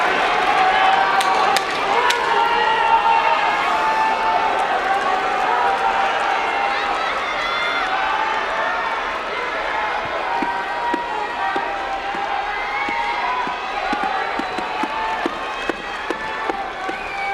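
A large arena crowd roars and cheers before the championship playoff bout on the final day of the 2025 Kyushu sumo tournament, a steady wash of noise with scattered claps under someone commentator's continuous talk.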